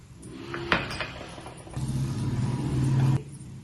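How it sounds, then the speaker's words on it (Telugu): A lid goes onto a cooking pan of potato sandwich filling with one short clatter, followed by a low, steady cooking hiss from the pan. "ఒక్క సెకండ్ మూత పెట్టాలి."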